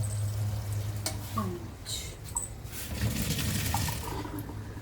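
Cold water is poured from above over boiled macaroni in a kitchen, giving a steady splashing rush that swells and eases over a few seconds, with no talk.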